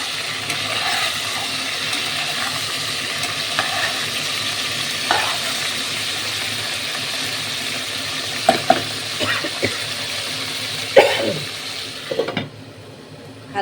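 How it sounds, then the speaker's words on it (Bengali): Cauliflower florets frying lightly in oil tempered with bay leaf and whole cumin, a loud steady sizzle with periodic spatula scrapes and clanks, fading quieter at the very end; no voices. "আগে ফুলকপিগুলো একটু হালকা ভাজবো"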